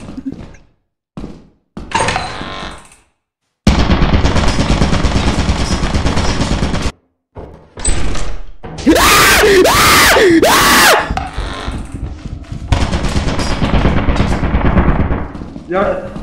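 Automatic turret firing inside a facility in the video game Lethal Company, a loud sustained burst of rapid gunfire broken by short silences, with voices talking and shouting over it.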